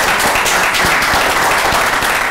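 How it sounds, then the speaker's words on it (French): Steady, loud audience applause honours the US English club, with dense clapping that continues without a break. "Je vous demande de vous applaudir très très très fort."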